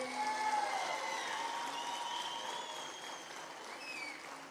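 Sustained audience applause from a crowd at a festival concert in Gegharkunik, Armenia, steady clapping filling the whole stretch with faint cheering mixed in.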